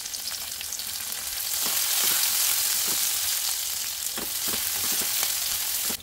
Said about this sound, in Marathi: लसूण, आलं आणि 1 मिरची बारीक चिरून घेतली आहे हे घालूयात, परतून घेऊयात